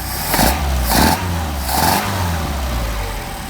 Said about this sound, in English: we'll pop the linkage on and then we will rev it up